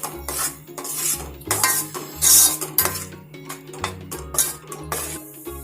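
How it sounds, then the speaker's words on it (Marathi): Masala roasting in oil for Satara-style misal, stirred in a pan with a rhythmic series of loud scraping and clanking strokes against the metal over a soft sizzle. "खूप छान असा मस्त लाल तेल सुटेपर्यंत हा मसाला भाजून घ्यायचा,"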